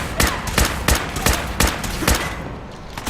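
Gunfire in Fallout 4 as enemies are shot: about seven loud, evenly spaced shots crack out one after another at close range, with no talking.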